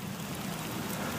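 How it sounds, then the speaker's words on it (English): Rain starts to fall outdoors during a hand saw test, making a steady, dense hiss of drops that stays faint and even throughout, with no voices. "Starting to rain."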